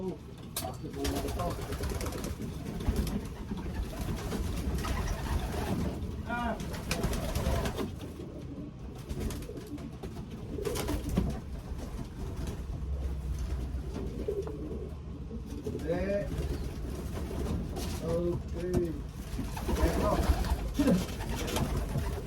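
Racing pigeons coo repeatedly nearby, soft rolling calls scattered through a busy loft background while someone talks over them.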